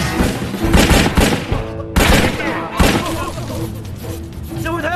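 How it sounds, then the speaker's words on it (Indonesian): Rapid bursts of gunfire ring out in a gangster action film fight scene involving police, loud cracking volleys that come in clusters with short gaps between them, while a narrator talks over the shooting. "Ketika salah satu polisi ditembak oleh bos gangster, kapten polisi yang bernama Kowloon melakukan perlawanan."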